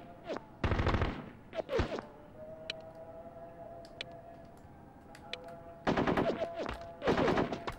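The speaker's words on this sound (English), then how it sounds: "heavy fire!" Heavy gunfire in the war video game Full Spectrum Warrior on PS2: several loud bursts of rapid automatic fire, clustered at the start and the end with a quieter gap between, together with scattered single shots.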